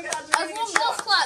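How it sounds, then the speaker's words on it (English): A few people give a scattered golf clap for an unplugged TV finally working, with a handful of separate, sharp hand claps spaced irregularly over a short stretch while voices chatter underneath. "That deserves a golf clap."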